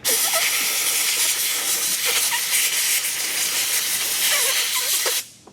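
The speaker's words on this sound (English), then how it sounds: "And then I'll take a blowgun and just blow it off." Compressed-air blowgun blowing off a transmission filter part from a 2021 Dodge Ram 3500 Cummins, a loud continuous hiss lasting about five seconds before cutting off abruptly.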